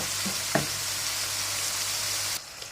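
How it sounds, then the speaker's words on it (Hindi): Ground tomatoes sizzling in a hot pan for a curry, a steady bright frying hiss with a couple of light knocks, cutting out near the end. "फिर हम इसके अंदर टमाटो जो हमने ग्राइंड किए हुए हैं वो ऐड कर देंगे"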